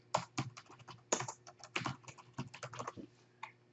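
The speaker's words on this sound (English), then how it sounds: "now you just want to put in the SalesPype user's email address" Typing an email address on a computer keyboard, a quick, uneven run of close, crisp key clicks with brief pauses, heard alone at low volume.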